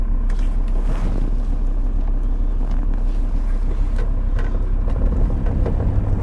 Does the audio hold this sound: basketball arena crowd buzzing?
no